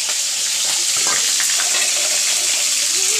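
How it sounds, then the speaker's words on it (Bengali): Fish frying in hot oil in a home kitchen, a steady loud hiss and crackle of sizzling throughout with occasional spattering pops, no talking. "এটা মাছ ভাজছি, মাছ তেল ছিটকাবে"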